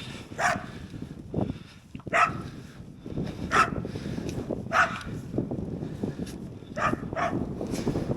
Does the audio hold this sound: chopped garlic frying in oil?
no